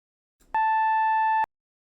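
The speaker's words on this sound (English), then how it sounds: "and inverse sine wave" One clean synthesized inverse sine wave tone sounds for just under a second, steady and fairly bright with a slight hum, starting and stopping sharply after a faint murmur.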